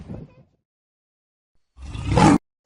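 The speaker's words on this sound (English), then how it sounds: "The lion is a large cat of the genus Panthera" A lion, the large cat of the genus Panthera, gives a short low growl, then after a pause a loud, rising, rough roar that cuts off abruptly.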